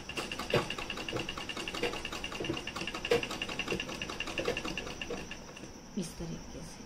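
A sewing machine stitching inverted box pleats in fabric, heard as a faint, uneven mechanical whir with scattered clicks and handling noises, fairly quiet throughout.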